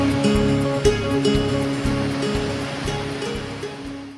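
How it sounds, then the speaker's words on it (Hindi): The Narmada roars as it falls over marble rocks at Bhedaghat, a dense continuous rush of water, loud and unbroken, with no voices. "मार्बल रॉक्स के बीच बहती नर्मदा का पानी जब ऊंचाई से गिरता है तो पानी गर्जन दूर तक सुनाई देती है"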